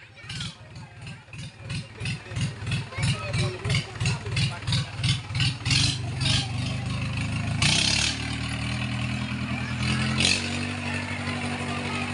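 A tractor engine chugs nearby at a village fair where bullock-cart and tractor rides are offered, with a pulsing, throbbing beat that turns into a steadier drone, plus clattering and people's voices around it.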